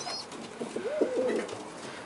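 Pigeons coo softly inside a pigeon loft, one low rolling call standing out over a faint, steady background hush with no voices.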